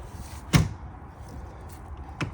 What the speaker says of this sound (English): You push that latch back, opens on up.